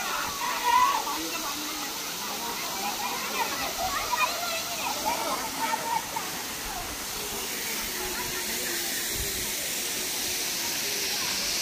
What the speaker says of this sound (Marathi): एक छोटासाच हा धबधबा इथे